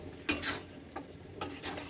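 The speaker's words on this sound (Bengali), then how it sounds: "এবার চলো এটাকে ভালো করে কষে নিই।" Turmeric and chilli powder masala stir-fried in a pan, two soft scraping strokes of a spatula over a faint low sizzle, close and quiet.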